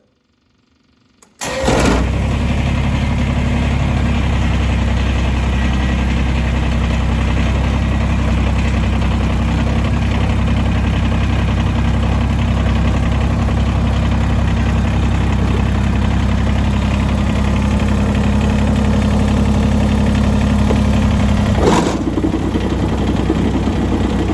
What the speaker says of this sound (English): Right now, let's get the tractor started up.